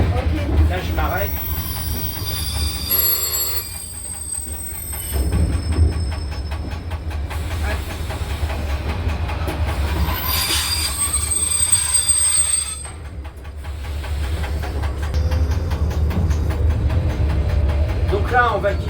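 A red tourist train brakes to a stop, its steel wheels squealing loudly on the rails amid a steady rumble, with scattered talk from people aboard.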